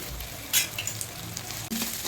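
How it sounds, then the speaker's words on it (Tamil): Onion and papaya pieces sizzle and crackle in a hot pan, stirred a couple of times with brief scraping, heard up close without any voices. "நல்லா ஃப்ரை ஆகட்டும். நல்லா ப்ரௌன் ஆகிற வரைக்கும் வதக்கலாம்."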